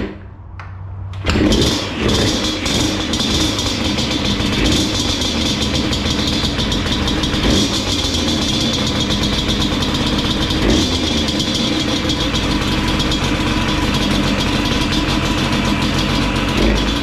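A rebuilt Yamaha Banshee ATV engine cranks over and fires up, then settles into a loud, continuous, rough idle that runs unbroken and close by throughout, with no talking.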